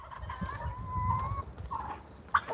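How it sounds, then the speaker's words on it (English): Farmyard turkeys call out in short gobbles and clucks while a dog pesters them, a few bird calls close by over low background rustling. "Sorry, my dog's messing with the turkeys a little bit."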